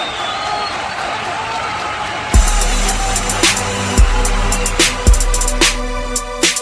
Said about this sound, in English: give a warm round of applause for Miss Farley and Miss Tina B.W. reading Grand Rising